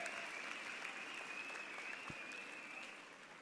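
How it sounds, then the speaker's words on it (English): Audience applause at a university fall commencement ceremony, a broad, fairly distant wash of clapping from a large crowd that holds steady and fades slightly at the end. "please join me in giving him another round of applause"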